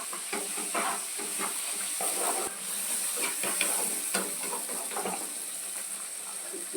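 Chopped tomatoes fry with onions in a wok for an egg curry, with a constant close sizzle and hiss and irregular crackles and stirring scrapes throughout; no voices are present.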